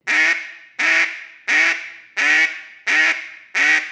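A duck call blown in six evenly spaced, loud raspy quacks, each on the same unchanging vowel with a short falling tail, repeating at a steady rhythm with no voices.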